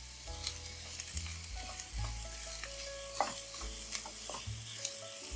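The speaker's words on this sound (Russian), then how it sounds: "Добавляю в сковородку морковь, обжариваю до мягкости и золотистого цвета." Carrots and onion fry in a pan with a soft, steady sizzle and occasional stirring scrapes, quiet beneath background music.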